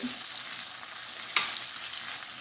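Garlicky beans with garlic paste frying in butter and olive oil, a soft steady sizzle with one sharp scrape of stirring in the middle, heard close and without voices.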